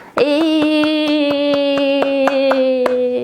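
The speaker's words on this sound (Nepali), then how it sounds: "ल, माला ताली हो, ठिक छ।" Children clapping a garland-clap pattern, with a run of sharp, evenly paced claps over a loud sustained musical tone.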